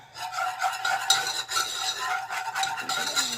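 Stock whisked into curry powder in a pot for a vegan, gluten-free gravy, a continuous rapid swishing and metallic scraping of the whisk, close and steady with no one talking.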